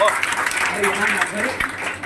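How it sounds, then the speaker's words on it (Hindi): A seminar audience breaks into sustained applause, a thick wash of clapping lasting about two seconds with voices mixed in. "तालियां"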